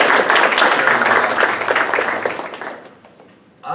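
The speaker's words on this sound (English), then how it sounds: "So a round of applause to yourselves as well for coming here." An audience at a talk on democracy and human rights in Egypt gives a loud round of applause that holds strongly, then tapers and dies away near the end before a voice comes in.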